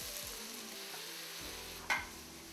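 Vegetables cooking in a pan for vegetable puffs, a steady soft sizzle with light stirring scrapes and one brief louder clatter near the end.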